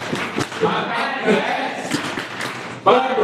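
Students of an Islamic high school doing a rhythmic clap chant together, loose claps and thumps mixed with voices shouting over them, close and busy, with a louder burst near the end.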